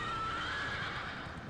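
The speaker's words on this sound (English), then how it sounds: "Let me get on my donkey." Video game donkey mount braying, a single drawn-out whinnying call with a wavering pitched tone over steady background noise, close and fairly quiet, with no talk over it.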